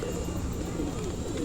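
Pigeons coo softly just after being released from their loft, a brief, low murmuring call heard close by against a busy background.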